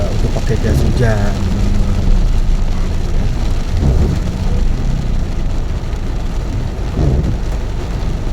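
Moderate rain falls steadily on a road near the Bekasi Timur toll exit, a dense continuous hiss with low traffic rumble underneath, while a voice talks over it.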